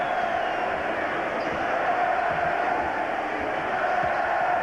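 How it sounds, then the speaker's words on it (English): Basketball arena crowd at a 1998 Bulls–Pacers conference finals game, a steady loud roar of massed voices chanting throughout, with no clear break. "the crowd begins another sarcastic chant of Reggie, Reggie, mocking what they do at Market Square"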